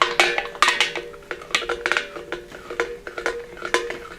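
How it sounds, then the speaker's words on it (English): A spoon stirs wild grape wine must, with a run of quick metallic clinks and scrapes against the pot at an uneven rhythm, close and fairly clear, with no talking. "Last thing we need to do, just give it a good stir."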